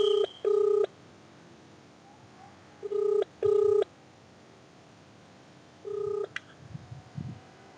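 A telephone rings in short electronic double bursts, two pairs then a single burst, loud and close in a quiet room with faint movement afterward.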